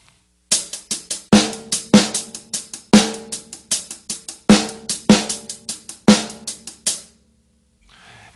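Drum beat with sixteenth-note hi-hat strokes and a snare hit added on counts two and four, a crisp, evenly spaced pattern repeating for several bars before stopping.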